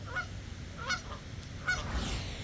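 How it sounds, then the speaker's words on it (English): Geese honk nearby outdoors, with three short honking calls spaced apart over a low, steady background rumble. "Got some geese right here."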